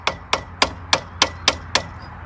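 A hammer striking a chisel to knock a lock nut loose, seven sharp metallic blows at an even, brisk rhythm, loud and close, with nothing else heard.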